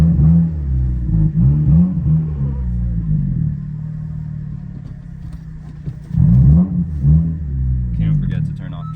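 A 9th generation Honda Civic Si pulling away, its engine rumbling and revving up in two bursts with a quieter idle between, heard from inside the car alongside some voice.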